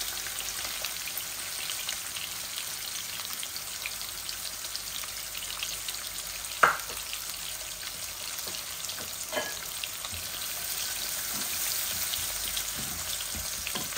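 Garlic frying in hot oil, a steady close crackling sizzle throughout with a few brief utensil knocks and taps against the pan, no talking.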